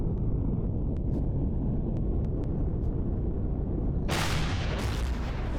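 Gunship rockets firing in the space survival game Empyrion Galactic Survival, a steady heavy rumble with a few sharp high clicks, then a loud bright hissing roar of launches in the last second and a half.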